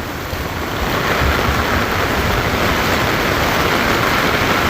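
Heavy night rain runoff streaming out of a village courtyard, a loud, steady, broadband rush of flowing water that continues unbroken, close to the microphone.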